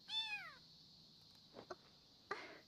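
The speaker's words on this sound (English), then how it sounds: "There's a cat." A cat in an anime episode gives one clear, rising-then-falling meow at the start, followed by faint scattered rustles and soft noises over a quiet background.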